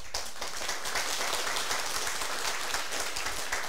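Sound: audience clapping

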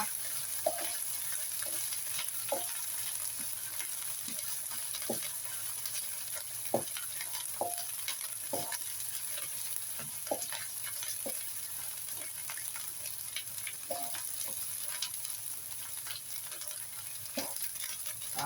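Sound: stir-frying red curry paste in a pan

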